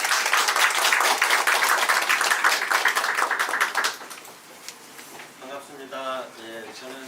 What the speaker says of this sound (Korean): 박수를 맞아주세요.